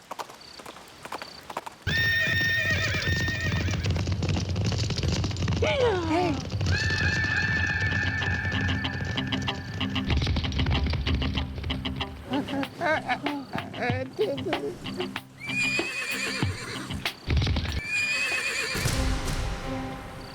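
A white Arabian horse walks closer with steady hoof clip-clops and gives several loud neighs and whinnies, with a comedic Hindi sitcom scene and some background voices around it.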